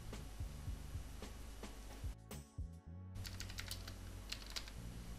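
Quick, close keystrokes rattle on a computer keyboard, with a brief pause before typing resumes, set against a low steady hum.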